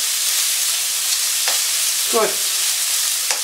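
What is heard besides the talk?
stirring sizzling food in pan with wooden spatula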